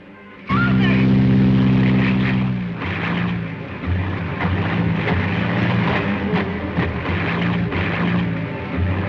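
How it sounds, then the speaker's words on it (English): A plane drones overhead with a loud, sustained engine roar that swells and then stays steady, with dramatic music and rumbling mixed in. "Arkadin's plane's flying around up there empty?"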